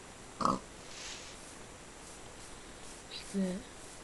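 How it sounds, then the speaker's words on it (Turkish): A pig in a modded survival video game gives two short grunts, one near the start and another about three seconds later, separated by quiet ambient game sound. "Domuz sesi duydum."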